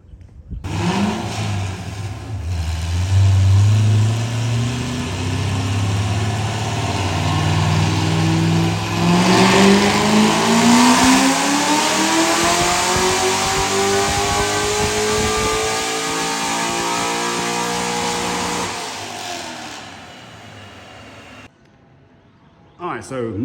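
A C5 Corvette race car fitted with modified C6 Z06 mufflers, loud and close, rising through a long rev that climbs and holds at a high pitch for several seconds before dropping back to idle.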